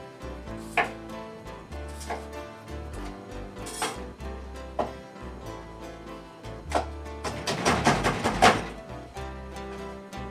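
A knife chops potatoes on a cutting board for a fried potato casserole with sausage, mushrooms and cheddar, giving irregular loud thunks with pauses between, then a quicker burst of rapid cuts near the end.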